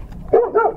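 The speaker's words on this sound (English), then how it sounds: "Everybody meet the guard dog." A guard dog lets out two quick barks close by, sharp and loud, with no talk over them.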